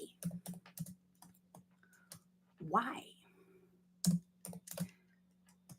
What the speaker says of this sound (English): I'm going to type in the chat.